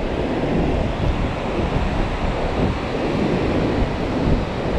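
Ocean surf at Suncoast Beach in Durban, South Africa, rolls in as a continuous loud wash of waves. Heavy wind buffets the microphone throughout, and no voices are heard.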